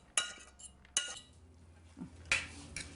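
A fork scraping and clinking against a pot of freshly cooked, swollen rice: a few light, distinct metallic taps and scrapes with quiet rustling between them, close and fairly soft.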